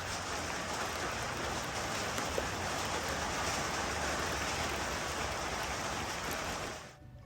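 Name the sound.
rain falling during summer thunderstorm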